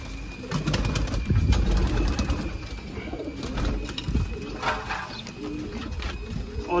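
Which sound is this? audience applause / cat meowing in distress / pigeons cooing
pigeons cooing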